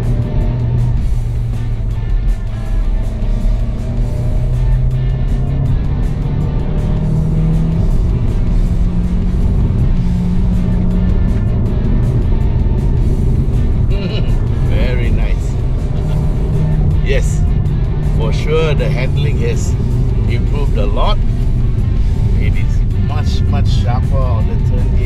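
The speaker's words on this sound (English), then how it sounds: "Okay, so we're gonna take a few corners and check how it is." A car winds through corners on a mountain road at Genting, its engine and tyre noise steady and continuous from inside the cabin, rising now and then as it accelerates out of bends.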